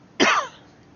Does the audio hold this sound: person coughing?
yes